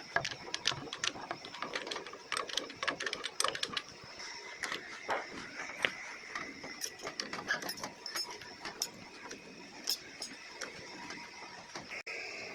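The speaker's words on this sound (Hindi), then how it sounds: "फाइनली स्टीयरिंग बोल्ट कस दिया गया है" Wrench tightening the steering wheel nut on a Mahindra 295 DI Turbo tractor, producing rapid dense ratcheting clicks and metallic ticks in a steady busy stream, close and moderately loud, with no voices.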